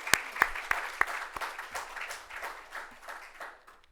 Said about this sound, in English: So please give a round of applause for the 2024 Athlete of the Year, Marcus Stroman.